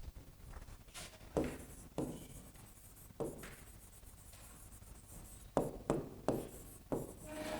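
Marker or chalk strokes on a board during a university lecture on recurrent neural networks for language processing: several quick scratchy bursts with short pauses between them, close and clear, with no talking.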